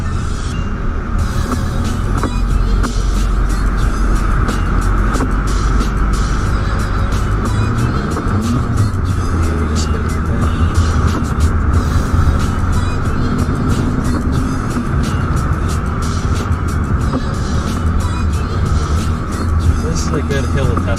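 A Honda Accord Sport Special Edition climbs a snowy hill, its engine a steady loud drone with road and tire noise inside the cabin, while a person talks over it.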